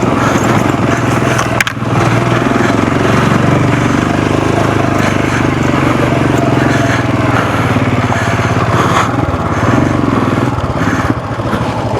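A loud Royal Enfield Scram 440 motorcycle engine revs and labors continuously, a rough throbbing drone that strains steadily as if climbing offroad up Acchalu Betta, with no speech over it.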